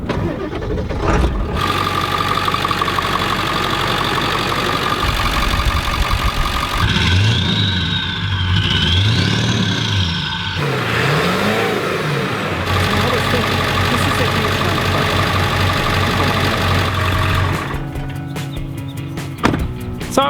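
A big pickup truck's engine cranks and catches, then settles into a steady, deep idle rumble that runs close and fairly loud for most of the stretch, with a voice heard at points over it.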